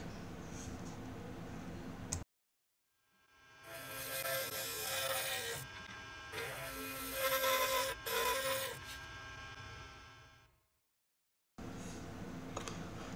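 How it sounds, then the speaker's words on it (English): Sandpaper and polish rub against a turned wooden goblet leg of wood and resin spinning on a lathe, a steady rasping hiss in two long passes separated by short silences, with a low motor hum between them. "I'm going to also polish it and sandpaper it"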